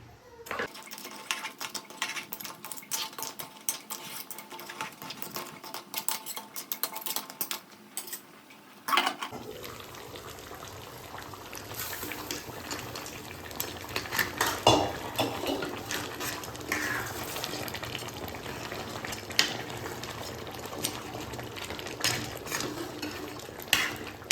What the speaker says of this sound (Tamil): இப்போ வந்து தேங்காய் பால் புளி தூள் மூண்டையும் போட்டு நல்லா மிக்ஸ் பண்ணி விட வேண்டியதுதான்